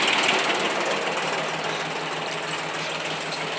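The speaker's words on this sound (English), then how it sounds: "Love this tractor." A tractor engine runs steadily at a constant drone while working in a backyard, close and unbroken, with no talk.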